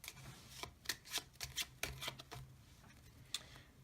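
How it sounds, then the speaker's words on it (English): Playing cards being shuffled, a series of crisp irregular riffling snaps and flicks up close, with no voices. "then you do like you are shuffling the cards"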